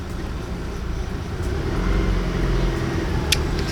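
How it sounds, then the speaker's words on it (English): A big moving truck passing on a street outside, a low rumbling engine drone that swells gradually and stays steady throughout, with no voices. "And a big moving truck is coming, so that's obnoxious."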